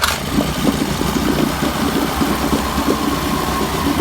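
A small outboard motor idles steadily and loudly after a pull start, a rough, throbbing mid-range drone that holds constant throughout.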